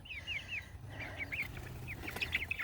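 Several chickens cluck softly at a distance, short chirpy calls scattered irregularly over a low background hum.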